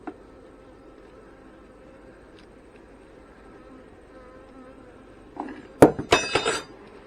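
Honey bees during a hive inspection, with a low steady hum through most of the stretch, then a loud close burst of buzzing, clicks and frame knocks near the end.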